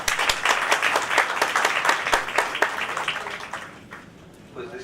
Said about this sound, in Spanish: recibimos con un aplauso al doctor Meneses